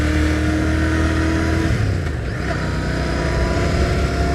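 Royal Enfield Continental GT 650 café racer, a 650 cc motorcycle, accelerating with a smooth, steady engine drone that holds loud and close for the whole span, its pitch shifting slightly midway, with no talking over it.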